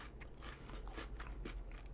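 Crisp, wet crunching of crunchy kimchi being chewed close to the mouth, a steady run of small bites and squelches, faint and continuous with no talking.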